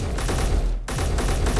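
Rapid automatic gunfire aimed at a warhead in the Space Engineers video game, a dense loud burst that cuts out briefly and then resumes.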